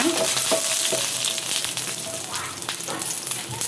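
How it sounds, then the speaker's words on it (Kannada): Garlic and onion frying on low flame in a pan for a South Kanara-style dry fish curry, a steady close sizzle with a few stirring scrapes and no talk. "ಈ ಹೊತ್ತಲ್ಲಿ ಬೆಳ್ಳುಳ್ಳಿ ಹಾಕ್ಕೊಳ್ತಿದ್ದೇವೆ. ಆನಿಯನ್ ಹಾಕ್ಕೊಳ್ತಿದ್ದೇವೆ. ಫ್ರೈ ಮಾಡೋಣ."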